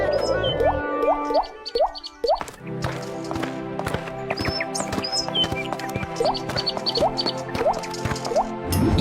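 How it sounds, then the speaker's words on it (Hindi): Cartoon water drops fall in quick, bright plinks, a rapid run at first and then scattered drips spread over a busy animated background of other effects. "ये तो पानी की बूंदे हैं"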